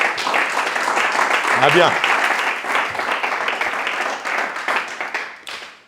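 Church congregation applauding steadily throughout, a dense continuous clapping that fades near the end, with a voice speaking briefly over it.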